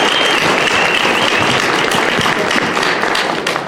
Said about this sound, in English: And while we're on the topic, a huge round of applause,